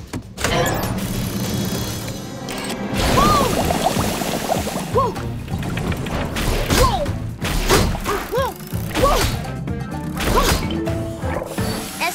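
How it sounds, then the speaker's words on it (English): A cartoon bubble cannon firing: loud thuds and crashes burst out, followed by bubbly, gurgling pops and splashy whooshes that continue in quick succession. "Fire the bubble cannon!"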